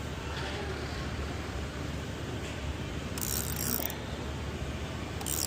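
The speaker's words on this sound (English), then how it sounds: "I get my gear wrench in and it's going to be loosening" A gear wrench ratchets while loosening a stud, making brief bursts of fast metallic clicking over a low background hum, close and fairly quiet.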